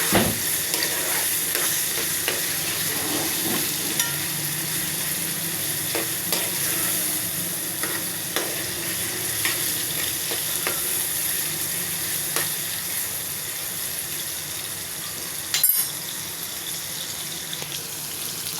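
Chicken and tomatoes frying in a pot as they are stirred, a steady close sizzle with the scrape and clatter of a spoon running throughout and one sharp knock near the end.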